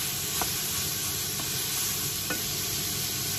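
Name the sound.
mixed vegetables (carrots, cabbage, bean sprouts) frying for yakisoba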